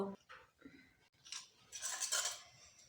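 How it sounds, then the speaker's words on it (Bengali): A metal cooking pot is washed and a little water is added, giving clinking metal and splashing water sounds up close, under a woman's speech. "তো আমি এই পাত্রটা ধুয়ে সামান্য একটু জল দিয়ে দিচ্ছি"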